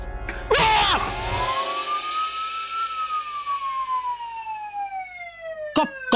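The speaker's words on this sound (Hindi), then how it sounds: "पुलिस का सायरन है।" A police siren wails in a long rising and falling tone, loud and fairly close, after a brief burst of noise at the start.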